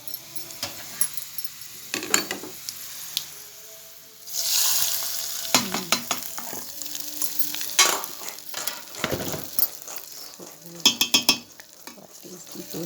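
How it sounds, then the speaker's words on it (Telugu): Curry leaves and turmeric being stirred into a chutney in a pan: close sizzling broken by irregular spoon clicks and scrapes, with a louder hissing burst partway through. "కరివేపాకు యాడ్ చేసి ఒక పావు స్పూన్ పసుపు వేసి కలిపిద్దామండి"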